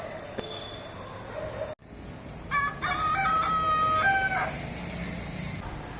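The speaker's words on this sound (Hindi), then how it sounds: "यहाँ के मुर्गे की अज़ान सुनना मुझे इतना पसंद है।" A rooster crows once at a moderate distance at early morning dawn, a drawn-out call over steady outdoor ambience, with no voices.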